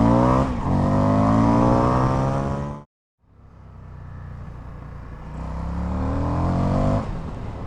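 An Indian FTR 1200 motorcycle launching from a standstill toward 100 km/h, its engine climbing in pitch through a gear, then a brief cut during a shift before it roars back and builds loudly again.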